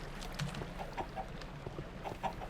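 Minecraft chickens clucking in short, scattered bursts, a few soft clucks and squawks repeating irregularly over a low background hum, with no voices.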